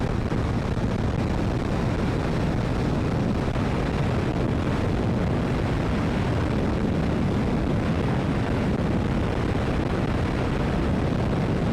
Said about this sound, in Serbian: Prosto ne znam koji skuter može ovako lepo da ubrza.